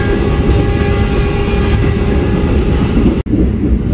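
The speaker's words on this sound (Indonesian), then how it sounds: "Sebentar lagi kereta api Tegal Bahari akan melewati stasiun Jatinegara." A loud, steady rumble with a sustained droning tone as the Tegal Bahari train nears Jatinegara station, broken by one sharp click near the end.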